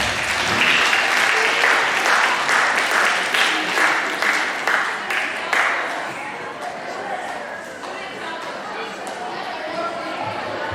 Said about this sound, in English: Give these sixth graders one last round of applause.